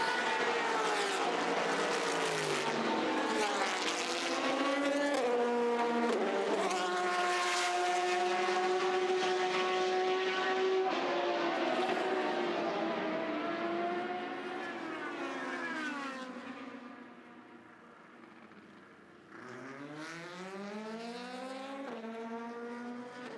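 Race cars from the leading GTE Pro group at the 2019 24 Hours of Le Mans, a loud sustained engine roar with rising and falling pitch as the cars pass close by, fading briefly and then building again.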